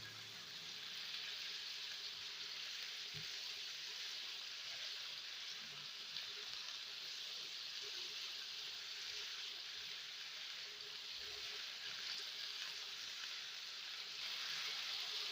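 Chicken pieces for white sauce pasta fry in a pan, a faint steady sizzle running throughout with a couple of soft spoon knocks and no talking.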